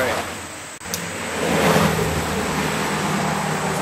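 Passing road traffic, a steady broadband roar of cars rising and holding as vehicles go by nearby, with no talk over it.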